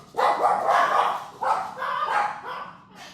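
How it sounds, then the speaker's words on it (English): Dogs barking indoors, a few sharp barks in quick bursts that come close and loud, with short pauses between them and no talk over them. "dogs."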